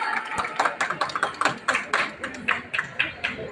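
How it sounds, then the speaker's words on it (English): Audience at a Diwali mela in a Bahrain shopping mall clapping in a steady rhythmic pattern of sharp, evenly spaced claps, with voices and crowd murmur running underneath. "Give a big round of applause, everyone."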